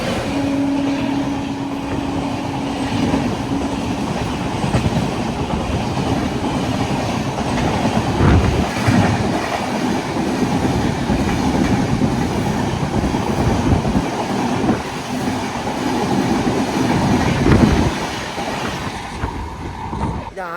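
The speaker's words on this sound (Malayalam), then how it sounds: "ആഴ്ചയിൽ 2 ദിവസം മാത്രമുള്ള ഒരു വണ്ടിയാണ് ഈ അജ്മീർ അമൃത്സർ എക്സ്പ്രസ്" The Ajmer Amritsar Express runs steadily on the rails near Firozpur in Punjab, with a loud continuous rumble, rattling carriages and rhythmic wheel clatter, heard from on board with faint talk underneath.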